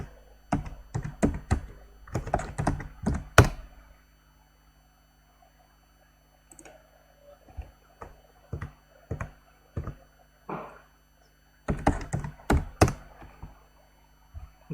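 Someone types on a computer keyboard in quick clusters of sharp clicks, pauses for a couple of seconds, then types a few sparser keystrokes before another fast burst, close and clear with no talking.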